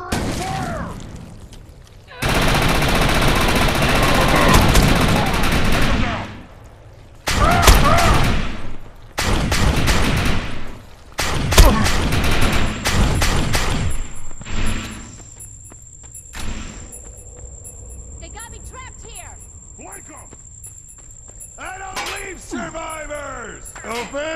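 Bursts of gunfire in a game as covering fire is laid down, loud broadband volleys and thuds that come and go in long stretches, with shouted voices and some electronic tones between the blasts.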